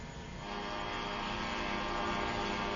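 A donut-shaped Cypher spy drone settles down on its own in an automatic landing, giving off a steady, fairly loud droning whir and hum that holds constant throughout with no voices.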